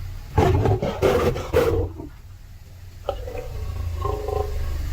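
A male lion gives deep, rough roars near a campsite in the wild, a few strong bursts up close followed by quieter grunting calls against a low background hum.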